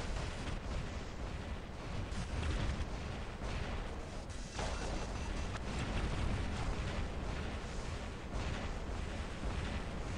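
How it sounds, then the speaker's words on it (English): Airstrike explosions rumble continuously in a war video game, a dense and fairly quiet wash of booms and crackling blasts with a few sharper hits standing out. "The airstrike is pretty good"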